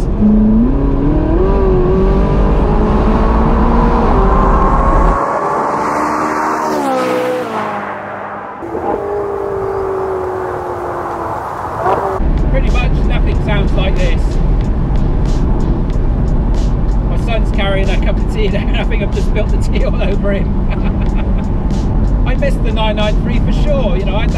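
A Ferrari 458 engine revs hard and roars continuously, pitch rising and falling through gear changes, loud and close throughout.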